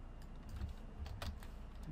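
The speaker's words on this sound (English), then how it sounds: "we're going to type in" Typing on a computer keyboard while entering sign text, a quiet run of soft, irregular key clicks under a steady low background hum, with no talk.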